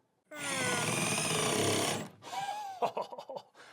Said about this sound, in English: I love this impact driver. This is from Milwaukee. It's an M12. It's their hydraulic driver.